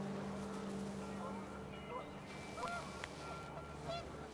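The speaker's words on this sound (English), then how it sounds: "The wind picked up, and panicked geese appeared and quickly went." Panicked geese honking in the video game What Remains of Edith Finch, several quick calls over a steady low droning background with wind, moderately close and brief.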